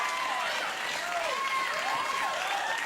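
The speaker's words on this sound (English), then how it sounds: "Once again, proof that the applause sign works." Sustained applause from a late-night talk show studio audience, dense steady clapping at an even level throughout, with some cheering voices woven in.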